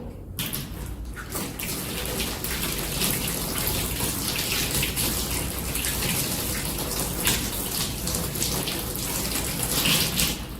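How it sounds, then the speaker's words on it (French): Hands are rinsed under a running tap, water gushing and splashing steadily and close by, with hands moving through the stream and no speech. "Rincez les mains à l'eau."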